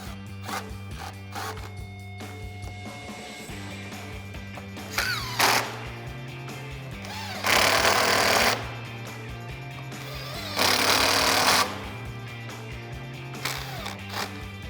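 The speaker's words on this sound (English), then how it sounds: "I'm going to start by reinstalling the top row of screws here with my 6mm socket and my 8mm socket" Bursts of a power driver or ratchet turning screws with 6mm and 8mm sockets while reinstalling the top row of screws on an MP Concepts GT350-style front bumper for a 2018-2021 Ford Mustang. The tool runs in two prominent roughly one-second runs plus shorter whirs over a steady hum.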